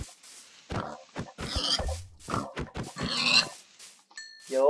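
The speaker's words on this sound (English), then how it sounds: "Well, we found three pigs." Pigs in the video game Minecraft grunt and oink in several short bursts, close and fairly clear.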